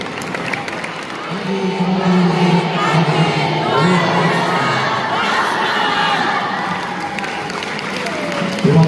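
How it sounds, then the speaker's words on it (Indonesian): A high school audience at an anti-drug assembly welcomes a speaker with a loud swell of cheering, shouting voices and clapping that builds after the first second and stays strong to the end. "Tepuk tangan Bapak."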